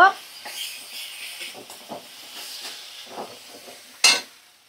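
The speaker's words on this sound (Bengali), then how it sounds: "এবার সমস্ত মশলা আমি ভালো করে 2 মিনিট একটু কষিয়ে নেব।" Spices and mustard paste sautéing in a hot pan, soft sizzling and hissing with intermittent stirring scrapes, fairly close, ending in one sharp louder clatter.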